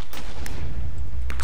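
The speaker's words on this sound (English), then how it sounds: "Explosion." Explosions in the Minecraft Quakecraft minigame boom loudly and close over a constant heavy rumble, with sharp blasts at the start and again near the end.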